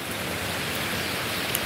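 Heavy typhoon rain pours down steadily onto a terrace, a dense unbroken hiss at even loudness with no voices.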